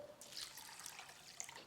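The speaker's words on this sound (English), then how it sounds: "I'm just going to drain that water off and rinse and repeat." Rinse water drains from a bowl of rice being washed for Japanese rice balls, a faint trickling and dripping patter that continues quietly at close range, with no voices.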